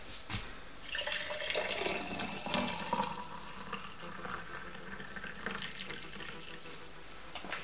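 Celery juice poured into a glass with no ice, a steady splashing liquid stream running close and continuous throughout.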